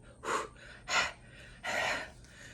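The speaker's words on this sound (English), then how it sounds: "Breathing, of course." Three deep, forceful breaths during Kundalini yoga practice, each a rushing inhale or exhale lasting under a second, close to the microphone with quiet pauses between.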